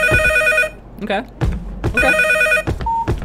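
In a FNAF-like horror video game a telephone rings in two loud electronic trills. A voice talks between and over the rings.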